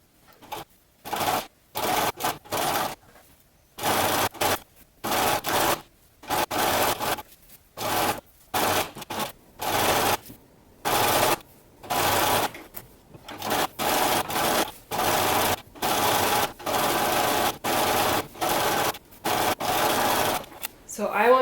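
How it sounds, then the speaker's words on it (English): A sewing machine runs a stretch stitch along the edge of knit fabric for a dress, in repeated bursts of steady whirring with short pauses between, loud and close throughout. "Now I'm going to go around with a stretch stitch, and I'm going to sew at 1/4 of an inch and finish the edge."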